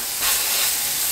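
Burger patties for bacon butter burgers hitting a hot flat griddle, a sudden loud broad hiss that swells and holds steady for about a second, close up with no talking.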